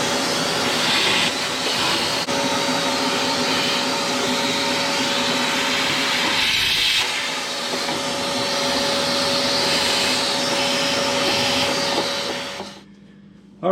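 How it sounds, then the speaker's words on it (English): A vacuum cleaner sucks dirt and debris out of an inshot gas burner box, a loud, steady whine and whoosh running continuously up close before cutting off abruptly near the end. "we're going to get this stuff all vacuumed up in here"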